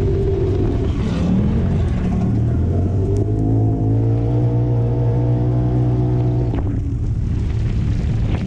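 A sandrail's powerful engine revs and roars hard in the big dunes, loud and close with throttle swells and a sharp drop near the end, no voices.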